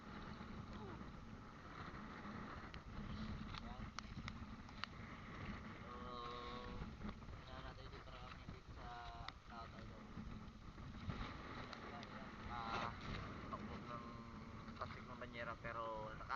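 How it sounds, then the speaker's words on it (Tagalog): Steady strong evening wind out at sea buffets the microphone with a continuous roar, while people talk faintly in the background. "Ang lakas ng hangin dito sa lahat idol."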